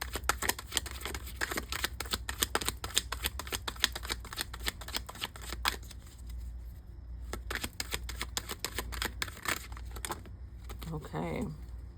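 A tarot card deck is shuffled close by, with dense papery riffling and flapping that runs for several seconds, pauses briefly, then starts again.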